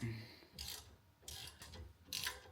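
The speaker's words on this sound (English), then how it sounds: "So it's a 5 Allen key hex head. So we'll tighten those a bit." Hex head bolts on a Terrafirma rear ladder for a Land Rover Defender L663 are nipped up with a 5 mm Allen key, giving three short bursts of metallic scraping and ratcheting, fairly close, with no talk over them.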